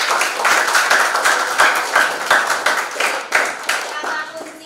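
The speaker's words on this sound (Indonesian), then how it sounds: "Kita beri aplaus untuk kelompoknya." Audience applause for a student group at an Indonesian teacher-training class session, a close, steady patter of many hands clapping with a few sharper individual claps, sustained throughout without a break.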